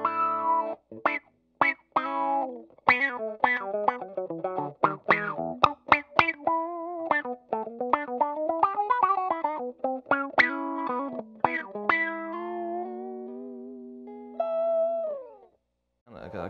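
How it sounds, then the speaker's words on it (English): Electric guitar through a TWA Wah Rocker envelope filter with distortion, playing quick, funky, quacking notes and sustained chords that sweep in tone. It is loud and continuous, with a brief pause before a final sustained chord. "I kind of like the way it sounds with this distortion too."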